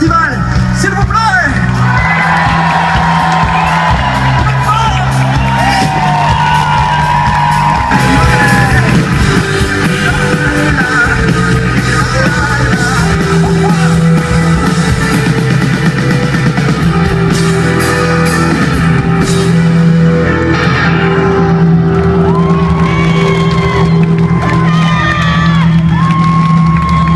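A large festival concert crowd cheers, whoops and shouts loudly and continuously for the volunteers, a dense roar of many voices over sustained music, with individual yells rising out of the mass.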